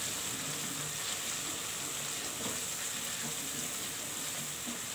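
Tomatoes sizzling softly in a pan over low heat: a steady, quiet, even crackle with no talking.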